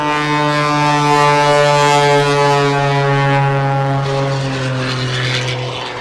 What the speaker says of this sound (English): controlled roll rather than spinning the aircraft out this time